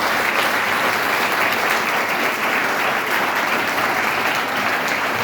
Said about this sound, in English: let us also give them a big round of applause